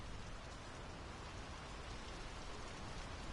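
Steady rain falls in the video game Draugen, a dense, even wash of patter that stays constant and fills the whole stretch with no voices.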